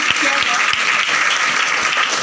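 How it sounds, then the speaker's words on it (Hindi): Loud, dense audience applause fills the whole stretch at a motivational speech event, steady and sustained with scattered sharper claps and no voice standing out above it. "इनके लिए बहुत ज़बरदस्त तालियां होनी चाहिए।"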